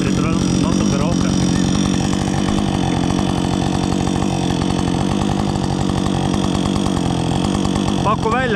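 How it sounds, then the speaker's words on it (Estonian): Chainsaw with a sharp chain cutting through a log about 15 centimetres thick during home forest work, its engine roaring loud and close under load with a steady buzzing rasp, while someone talks over it. "Vaata, kiiresti ma saen, kui saekett on terav."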